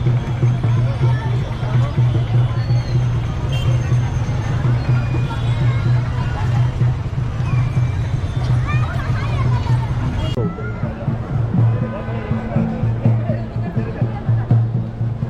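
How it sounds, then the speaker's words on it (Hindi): Dense babble of a large crowd of devotees gathered at Ram Ghat on the Godavari riverbank in Nashik for Chhath Puja, a steady continuous hubbub of many overlapping voices with a low droning hum beneath. "घाट के उस तरफ और घाट के इस तरफ कितनी भीड़ है।"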